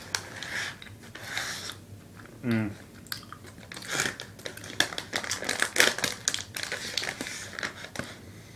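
Soft, sticky Ocean Spray fruit snacks chewed close to the mic, with moist mouth sounds and small squelches, mixed with someone talking over much of it.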